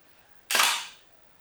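Pentacon Six medium-format camera shutter firing at a slow 1/30 second, a single sharp close mechanical snap that fades quickly into quiet.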